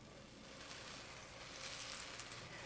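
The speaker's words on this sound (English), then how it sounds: "When frying the polenta, it is best to fry it in a non-stick skillet so it really doesn't stick" Polenta pieces fry in butter in a non-stick skillet, giving a steady, soft, continuous sizzle with faint crackles, close and alone without any talking.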